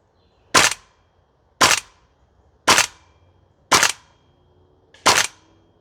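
A Toxicant Airsoft XM5 Sig Spear gas blowback rifle firing on a range, five sharp, loud single shots evenly spaced about a second apart, each followed by a short mechanical clack.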